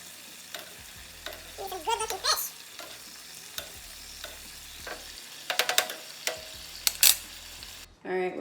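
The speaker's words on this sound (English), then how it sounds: "Basting, getting the sauce from the tip of the pan, adding it back onto my salmon." Marinated salmon frying in a pan while sauce is spooned back over it, a lively close sizzle with repeated spoon scrapes and metallic clinks against the pan, bursts of spitting, ending abruptly.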